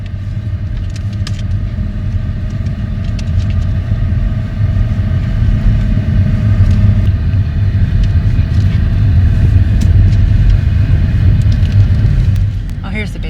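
A car drives up a short road to a parking lot at Mount Jefferson State Park in North Carolina. The cabin holds a steady close engine and road rumble that swells slightly as it climbs, then eases off at the end.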